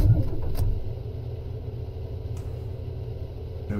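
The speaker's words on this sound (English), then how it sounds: "There we go, engine is on." A coach engine starting in Fernbus Simulator, a low rumbling diesel that settles into a steady idle, close and constant with a few faint clicks.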